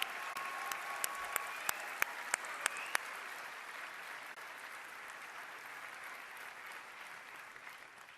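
A large crowd at the 2026 FIFA World Cup Final Draw applauds Mexico's President Claudia Sheinbaum, a continuous wash of distant clapping with a few sharp, louder claps standing out in the first seconds.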